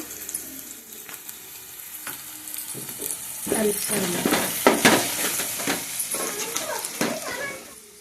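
Turmeric and salt fry in a pan with a steady sizzle, broken by clattering stirring scrapes that grow busier partway through.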